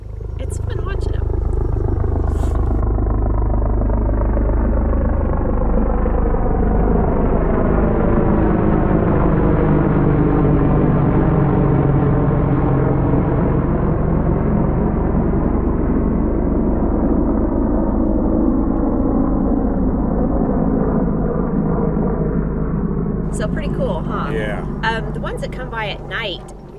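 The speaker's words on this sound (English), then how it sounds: "We get helicopters and jets now and then." An aircraft, a helicopter or jet, passes overhead near an RV campsite, a loud, sustained engine roar whose pitch slowly rises and falls as it flies over and fades out after about twenty-five seconds.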